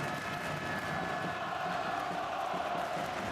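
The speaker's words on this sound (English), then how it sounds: "And the crowd are getting louder and louder here." Crowd in a handball arena in Krakow during the 2016 European Handball Championship final, Spain versus Germany, making a sustained loud roar of cheering and chanting that holds steady throughout.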